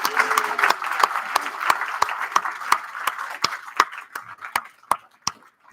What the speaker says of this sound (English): can we just give Ezra a round of applause